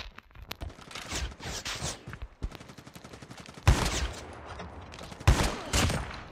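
Gunfire in the video game Call of Duty: bursts of rapid automatic shots with scattered single cracks, two loud close volleys standing out, fairly loud throughout with no voice.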